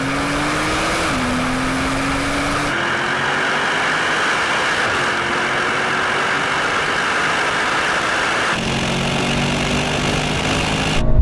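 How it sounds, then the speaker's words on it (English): A Porsche 911 Turbo S races a Mercedes G63 and GLS 63 from a rolling start in third gear, heard from inside as a loud, sustained engine roar whose pitch climbs steadily, dropping sharply at each upshift before rising again. "let's do a rolling race from 80 kilometers an hour in third"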